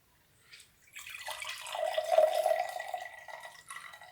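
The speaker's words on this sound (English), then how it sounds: "So I basically let it drip," Water drips and trickles from freshly sprouted seeds into a container, a short soft splash followed by a steady, close patter that lasts a few seconds.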